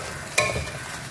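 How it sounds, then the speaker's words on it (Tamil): Banana stem being sautéed with chillies in a pan, a soft steady sizzle broken by a single sharp spatula scrape or clink near the start. "இது நல்லா வாழைத்தண்டு வேகிற அளவுக்கு நம்ம இதில் வதக்கணும்."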